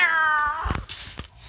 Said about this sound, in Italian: ecco perché ha squillato il gatto